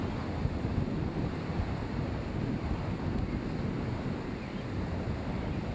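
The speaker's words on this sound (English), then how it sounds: "The next day, the south wind rises and intensifies, becoming nearly a gale off the water." A strong, near-gale south wind blows in off the Gulf water as a continuous loud broadband roar, with surf and buffeting wind on the microphone and no voices.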